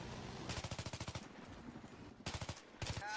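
M4A1 assault rifle firing in a video game, rapid bursts of automatic gunfire: a long rattling string of shots, a pause, then two shorter bursts, fairly faint overall.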